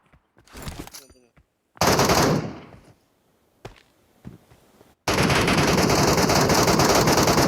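Bursts of automatic gunfire from the mobile shooter PUBG Metro Royale, loud and close: a short rattling volley, a sustained heavy burst, a few isolated shots, then another long continuous stream of fire, with a voice briefly heard.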